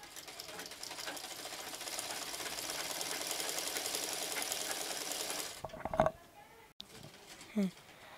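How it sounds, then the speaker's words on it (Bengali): Sewing machine stitching the border of a jute sack mat, running steadily and close for about five and a half seconds before stopping, followed by a few faint handling knocks. "আমরা প্রথমে বর্ডারটি সেলাই করে নিচ্ছি"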